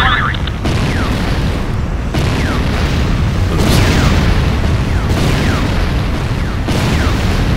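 Repeated heavy explosions of structures being destroyed in the C&C Renegade game, a series of loud booming blasts roughly every second or two, each with a bright crackling burst and rumbling tail over dense battle noise.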